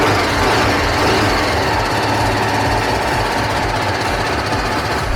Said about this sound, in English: Although everything starts here, the bike won't start. What? It started.